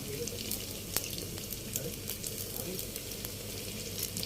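Suji luchi, a semolina flatbread, puff while frying in hot oil with hot oil spooned over them, giving a continuous low sizzle dotted with faint ladle taps.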